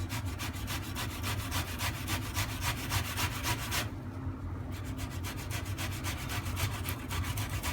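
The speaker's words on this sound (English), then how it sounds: "We're going to want to grate all these potatoes." Boiled potatoes rubbed against a grater, a steady rhythmic scraping with repeated back-and-forth strokes, close and fairly loud, with a brief pause near the middle before the grating resumes.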